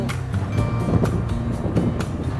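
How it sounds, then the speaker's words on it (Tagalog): Strong wind roars steadily across the microphone during a foggy tuktuk ride in Marilaque, with buffeting gusts and a low rumble like a boat on open water. "Lakas ng hangin!"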